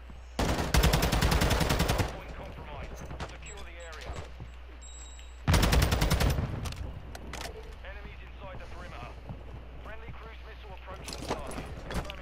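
Two bursts of rapid automatic gunfire in a ranked match on the Fortress map in a competitive shooter, each lasting about a second and a half, with players talking over them and softer in-game movement and shots in between.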